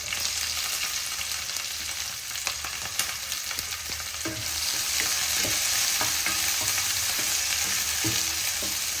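Chopped garlic, ginger, green chilli and capsicum fry in hot oil for an egg curry, a loud, continuous sizzle with repeated scraping and clicking of a spoon stirring the pan.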